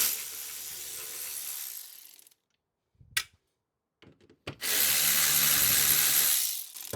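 A ratchet works on the 10mm bolts holding the bumper snorkel of a MINI Clubman F54, with short clicking bursts in a quiet gap between longer stretches of loud hissing noise.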